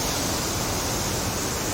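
Water pouring down at Li Phi Falls on Don Khon, Laos, a steady broadband roar that stays even and unbroken throughout, close and fairly loud with no voices.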